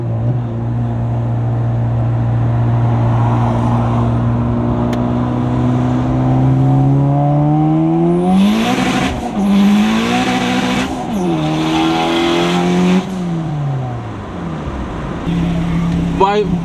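A turbocharged Honda Civic Si accelerating hard on a road, its engine droning and rising in pitch for several seconds before a rapid burst of gear shifts and revving, loud and heard from the cabin.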